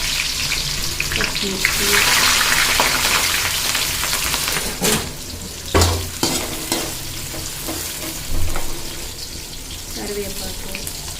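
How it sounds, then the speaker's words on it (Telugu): Onions and green chillies sizzle and crackle steadily in hot oil for a tempering, with occasional stirring clinks, and a voice speaks briefly over the frying. "సో ఆయిల్ వేడెక్కింది, పోపు వేసేసుకుందాం మనం."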